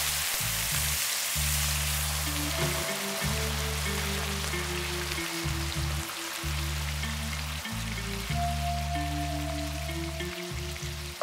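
Spaghetti frying in a pan with tomato broth for Spaghetti all'Assassina, a steady crackling sizzle throughout, with a low pulsing hum starting and stopping underneath.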